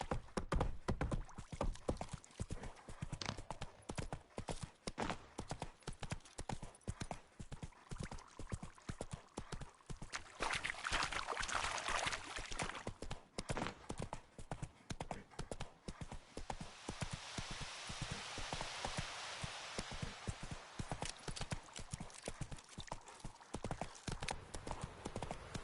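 Horse hooves clip-clopping at a fast, even gallop in The Witcher 3 game, a continuous rapid drumming of hoofbeats with wind rush rising and falling, fairly faint in the mix.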